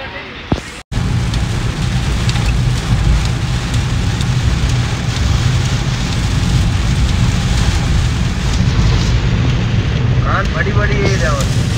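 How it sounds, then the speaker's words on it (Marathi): Heavy rain pours down during a thunderstorm with lightning, a loud dense roar that continues steadily for the whole stretch. A sharp crack sounds near the start, and a faint voice is heard toward the end. "असा भयानक पाऊस पडतोय आणि विजा चमकतात"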